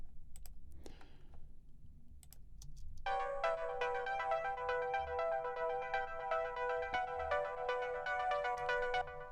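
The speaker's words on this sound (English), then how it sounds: "a fairly dissonant diva sound there" After a near-silent start with a few faint clicks, a dense Diva synthesizer patch with dissonant stacked tones enters and holds as a bright shimmering wash with fluttering, rapid pulses for the remaining six seconds.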